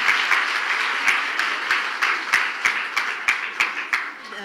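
An audience at a Christmas celebration in Divine Gospel Church applauds, a dense, loud wash of clapping with some sharper individual claps that thin out and fade toward the end.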